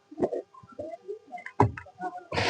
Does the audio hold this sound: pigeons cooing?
yes